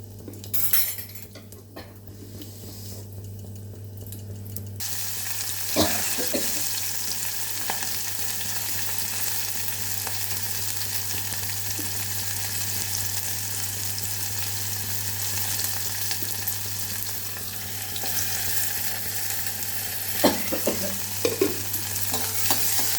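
Mustard seeds and urad dal fry in hot oil for kara kulambu. A loud, continuous sizzle starts after a few quieter seconds, with a utensil stirring and clinking against the pan.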